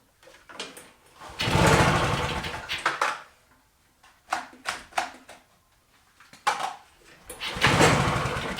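Mustang 20 two-stroke lawnmower engine spluttering on pull starts, with several short uneven bursts of coughing firing separated by quiet gaps, loud and close.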